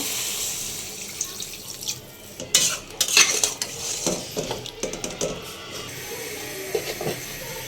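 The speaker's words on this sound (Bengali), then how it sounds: "এখন আমি পানি দিয়ে দেব।" Water poured into a sizzling lentil-fritter and egg curry, a rush of pouring and hissing followed by stirring, utensil clinks and pot knocks, close and uneven, with no speech.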